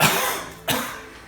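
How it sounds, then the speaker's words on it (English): Two short, harsh coughs close by from someone eating spicy hot wings, the second sharper, against a faint hiss of background noise. "COVID cough."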